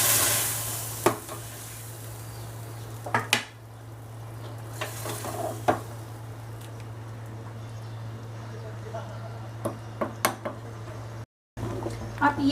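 Hot tadka poured into dhaba-style dal fry sizzles in a steady, close hiss, broken by occasional sharp clinks of a utensil against the pot.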